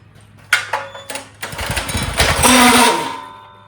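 A mini bike engine with a faulty clutch is shut off and coasts down, giving sharp rattling bursts that swell into a loud, harsh grinding clatter before fading out.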